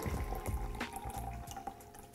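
A Bloody Maria mix made with birria broth is poured, a brief close liquid splashing and gurgling stream with small drips.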